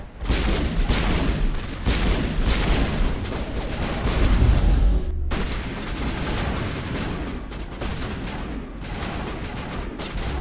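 Sustained heavy gunfire and booming shots in Mass Effect, dense and continuous for the whole stretch with no voices, loud and close throughout.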